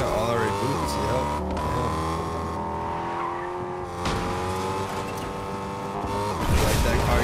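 Car engine droning in a battle royale video game, a steady revving hum with tire squeals, continuous under voices of players talking.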